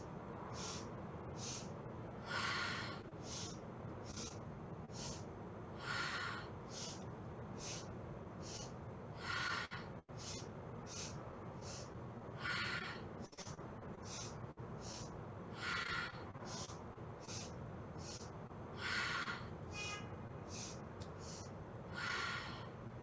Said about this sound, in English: 4-part breath.